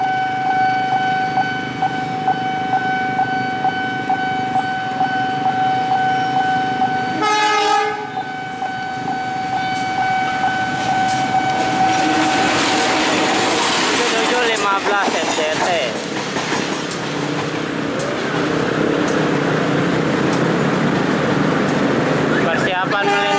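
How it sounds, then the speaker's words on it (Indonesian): A C1 diesel locomotive passes a level crossing on Jalan Pramuka in East Jakarta. Steady crossing-bell tones ring first, a sharp horn blast sounds, then a loud, swelling rumble of wheels and cars rolls close by. "lokomotif C1"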